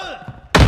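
A stun grenade detonates in Call of Duty: Modern Warfare II, a sudden loud, broad burst after a quieter stretch of game noise, with the blast filling the last fraction of a second.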